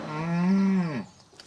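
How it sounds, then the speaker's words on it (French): A single cow on a dairy farm gives one long, loud, close moo that falls away at the end, followed by quiet farm background. "Les vaches repartent pour une nouvelle séance de traite."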